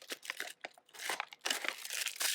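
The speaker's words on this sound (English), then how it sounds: "So you just crumple this up" Fussy-cut paper cutout crumpled by hand for art journaling, a close, continuous crinkling that comes in several bursts with brief pauses between squeezes.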